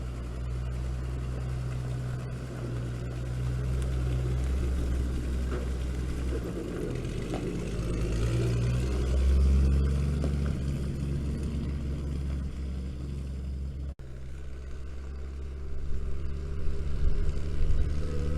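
A snow truck's engine drones steadily as it drives, a low continuous rumble that swells and fades slightly, with mechanical noise on top and no talking.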